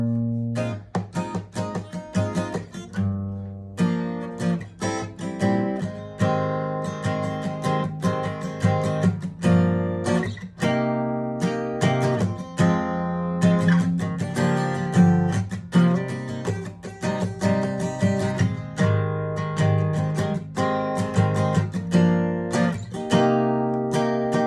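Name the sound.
acoustic guitar playing the chorus of a song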